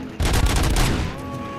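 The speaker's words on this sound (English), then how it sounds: "fully automatic fire" A rapid, fully automatic weapon burst in the shooter game RoboCop Rogue City, roughly a second of tightly spaced loud cracks that then fades into a ringing tail.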